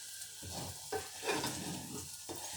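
Scrambled eggs fry in a pan on a gas hob, a steady close sizzle punctuated by a few brief stirring scrapes, with no talk.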